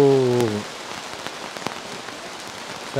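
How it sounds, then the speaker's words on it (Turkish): Heavy rain pours onto a tent at a campsite in a thunderstorm, a dense, close patter with scattered louder drops, after a brief voice at the start. "Fena yağıyor."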